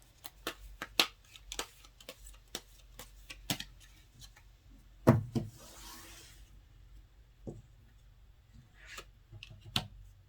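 Tarot cards being shuffled by hand indoors, giving a run of crisp, close card snaps and riffling clicks in irregular bursts, with a softer sliding rustle midway and no talking.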